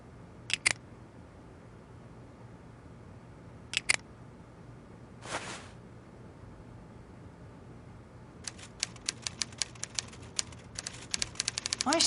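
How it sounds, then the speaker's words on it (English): Muffled typing comes from behind a locked door in an Agatha Christie mystery game, heard as short scattered bursts of key clatter that grow into a rapid, faint flurry of keystrokes. "I say, Poirot, he seems to be typing up quite a storm"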